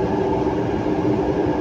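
A steady rumbling MRT train ride between Shaw Boulevard and Quezon City, Manila, low mechanical drone and rattling of carriages in motion, with no voices.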